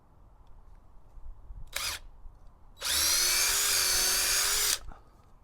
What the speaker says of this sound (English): I'm just going to use the drill bit that I had in place from the previous.